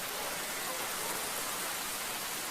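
Steady rain falls as a dense, even hiss of noise, faint and continuous.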